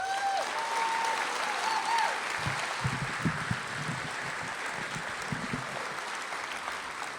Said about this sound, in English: Big round of applause for Elaine White.